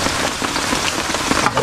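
Steady, dense rain pattering hard on a surface, continuous and close, with no voices.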